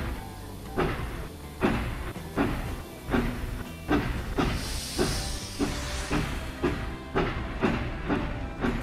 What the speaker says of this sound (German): Dampfen tut er schon mal wie ein großer.